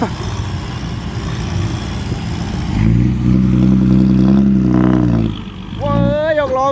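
A Thai tractor with a newly installed engine rumbles steadily, then revs up into a loud, sustained roar before easing off, with a rising whine near the end.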